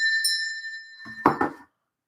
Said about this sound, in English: We're gonna ding that bell.